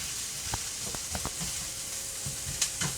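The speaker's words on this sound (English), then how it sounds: "I got a diced onion cooking up in a pan." Diced onion sizzling over fairly high heat in a pan, a steady quiet frying hiss with a few soft stirring knocks and no talking.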